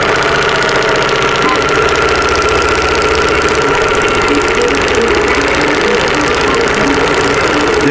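An embroidery machine stitches a metallic-thread Christmas stocking design, a loud, steady, rapid mechanical chatter with constant motor whir that runs unbroken throughout.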